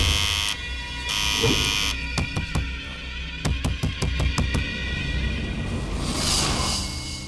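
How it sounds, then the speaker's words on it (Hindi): Buzzing electric doorbell from a movie scene, pressed in long tones and then a series of short repeated rings, loud and close, with no talk. "कितना भी बेल बजा रहा हूँ, दरवाजा खोल नहीं रहा है सर।"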